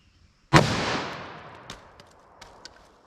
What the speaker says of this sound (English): 44 Magnum through our MDF, our chest shot simulation.